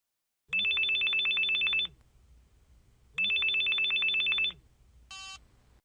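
Two long electronic telephone rings sound clearly in a quiet room, separated by a pause, followed by a brief higher beep.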